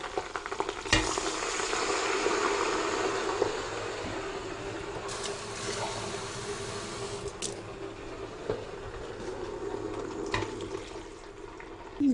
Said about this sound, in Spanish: le echamos el agua.